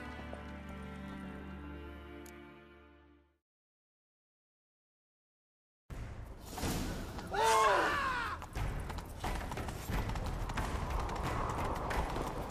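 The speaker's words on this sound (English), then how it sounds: "Grab a horse, we'll chase him down." After a short musical passage and a pause, galloping horse hooves thud rapidly amid sound effects and whooshes in The Witcher 3: Wild Hunt, loud and continuous.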